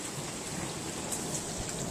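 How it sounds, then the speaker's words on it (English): Thunder rumbles during a rain and hail storm over a porch, with a steady, dense hiss of rain drumming on surfaces and no voices. "I'm sure you can hear the thunder."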